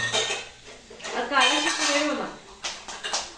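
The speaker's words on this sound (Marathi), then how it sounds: "काढत बसले भांडी बाहेर" Steel pots and dishes clatter and clink in a home kitchen as they are lifted out one after another, a busy, irregular run of close metallic knocks with a voice murmuring briefly underneath.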